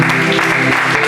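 A church congregation applauds in a short, loud burst of dense clapping. The sound is close and it is all there is.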